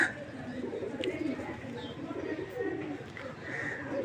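A Pankhi bloodline pigeon coos softly and steadily, with a few faint chirps over a low, continuous background rumble.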